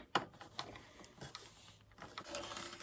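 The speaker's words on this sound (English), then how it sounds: "So let's go ahead and tighten these screws up." Screws are tightened by hand with a screwdriver during a crafting project, giving faint, close, irregular clicks and scraping creaks with no speech.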